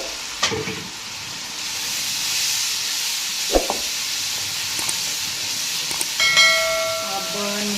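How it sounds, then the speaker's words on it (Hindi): Chicken and green beans sizzle in a hot pan as water is poured in, a steady hiss with a few clinks of a utensil stirring, close and fairly quiet. "ये पानी ऐड करेंगे हम।"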